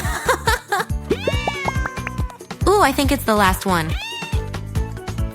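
A crowd of cartoon kittens meows in quick, high-pitched, overlapping mews with rising and falling cries, close and loud, while a person talks between them.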